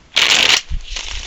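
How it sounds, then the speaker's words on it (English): Tarot cards riffle-shuffled in one quick burst, close and crisp, followed by a brief soft tap and the deck being squared, with no voice over it. "Let's go ahead and shuffle."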